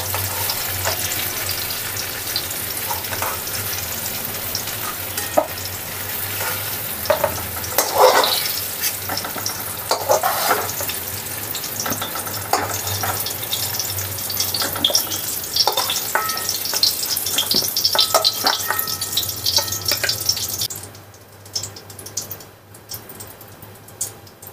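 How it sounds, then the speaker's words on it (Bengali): Pumpkin pieces fry in hot oil with a continuous close sizzle, and a spatula scrapes and stirs them in repeated bursts before the frying fades to a quieter simmer near the end. "এই রকমভাবে লাল লাল করে কুমড়োগুলোকে ভেজে নিতে হবে"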